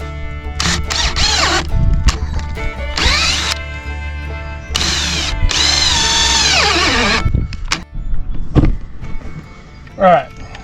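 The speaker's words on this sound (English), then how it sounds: "that big auger bit's a little bit much for the battery powered drill" A battery drill fitted with a big auger bit whirs and strains in several bursts, its motor pitch sagging under load, with close mechanical clatter between runs.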